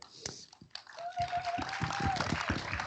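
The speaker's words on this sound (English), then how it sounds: "That's another applause" Audience applause at the Easterseals Disability Film Challenge 2022 awards ceremony, a steady broadband patter of clapping that swells through the middle and continues under a speaking voice and a brief whistling tone.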